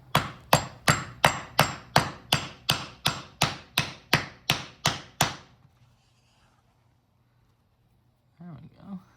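A 6203 2RS bearing is tapped down into a pulley with a hammer, about fourteen sharp, evenly spaced metallic knocks in quick succession, followed by near silence and a brief low voice at the end.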